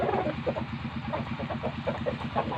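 Chickens cluck softly and repeatedly in a coop, a busy, continuous chatter of hens close by with no voices.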